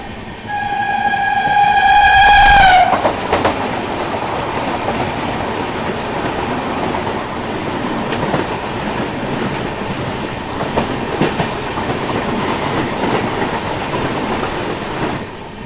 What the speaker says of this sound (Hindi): सामने से कोई तो ट्रेन आ रही है जो क्रॉस होने वाली है।